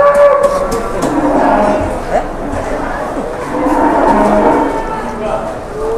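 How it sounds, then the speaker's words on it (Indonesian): A giant cow moos repeatedly at Jelok livestock market in Boyolali, long loud bellows rising and falling close by over a busy market din, with voices faintly in the background. "Sapi jumbonya tinggi sekali."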